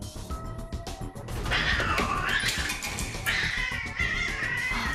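Cats fighting at close range, with loud yowls, caterwauling and hissing that build into a sustained, explosive scuffle after a quieter start.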